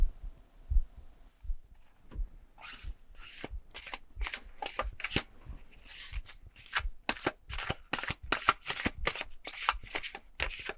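Tarot cards are shuffled in quick repeated riffles, a rhythmic flurry of crisp flapping snaps close by after a few soft taps.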